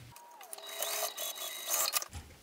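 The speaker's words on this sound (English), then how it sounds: "so that I can sew them with that full seam allowance to complete my loop" Sewing machine stitching a bag's zipper gusset lining to the bottom panel lining, a steady close whirring run of rapid stitches lasting about two seconds with no talk.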